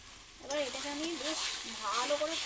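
Ground masala with beet salt frying and being stirred in a pan, a steady hiss and sizzle running under a voice talking over it.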